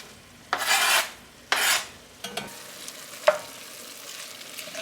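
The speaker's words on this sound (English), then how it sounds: "so now I'm gonna go ahead and add in the onions and the pepper" Onions and peppers are tossed into a pan of frying cheesesteak meat, giving two loud bursts of rasping sizzle followed by a few scraping stirs and a clink, then a quieter steady sizzle.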